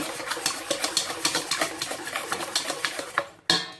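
Far breton batter being mixed by hand in a bowl, a steady rapid series of whisk or spoon strokes scraping and tapping against the sides, close and loud, ending with a brief pause and a final knock.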